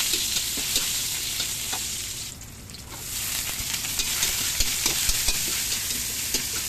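Garlic and onion sauté in hot oil for sarciadong isda, a steady loud sizzle with scraping stirs throughout, dipping briefly quieter midway before the frying hiss swells back.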